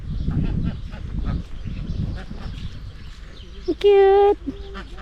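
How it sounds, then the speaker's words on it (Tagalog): People chat quietly outdoors in Toledo, Spain, then a single loud, nasal duck quack rings out close by near the end. "Ay, may mga pato."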